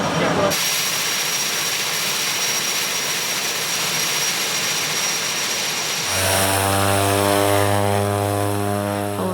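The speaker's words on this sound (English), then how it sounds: "the plane's roaring off and up into the sky" Propeller plane engine roars loud and close in snowy white terrain, a steady broadband drone that swells into a stronger harmonic hum as the aircraft powers up for takeoff.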